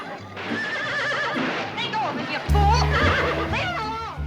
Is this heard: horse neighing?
yes